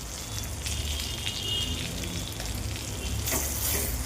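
Green chillies and spices sautéing in a pan, a dense continuous sizzle like light rain with soft stirring, close and fairly loud, ending in a sharp clink.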